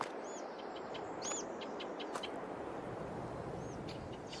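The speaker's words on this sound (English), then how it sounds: "he has recorded his own bird sounds" Garden birdsong recorded for a custom Farming Simulator map, with scattered, faint chirps and short tweets over a steady outdoor hiss.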